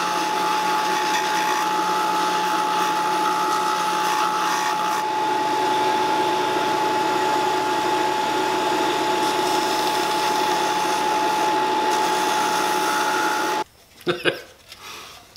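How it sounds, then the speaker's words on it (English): Belt sander grinding against a wooden bowl, a steady loud mechanical whir running continuously for about fourteen seconds before cutting off abruptly, followed by a few brief clunks. "take it over to the belt sander and sand the rest of that"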